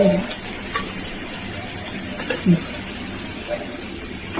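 Mutton frying in a pan full of hot oil while being stirred, a steady sizzle with occasional scrapes and clinks of the spoon against the pot, as someone talks over it.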